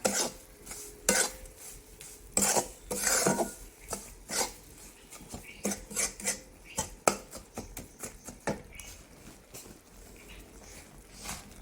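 Flour roasting in ghee in a thick pot, stirred with a utensil that scrapes and knocks against the metal in a steady, uneven rhythm of close, moderately loud strokes, with no voices.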